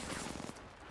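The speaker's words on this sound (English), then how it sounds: "Why are you shooting at me?" Gunfire in the Apex Legends video game: a rapid burst of automatic shots, faint and somewhat distant, fading after about half a second before a final sharp hit.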